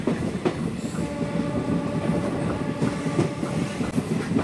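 A passenger train between Agartala and Sabroom in Tripura rumbles steadily along the track, wheels clicking over rail joints in a continuous, moderately loud wash heard from onboard.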